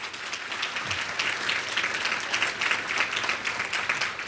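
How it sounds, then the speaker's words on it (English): Audience applause at a children's museum fundraising power lunch, dense, even clapping from a seated crowd sustained throughout at moderate loudness. "So let's give a little applause for the"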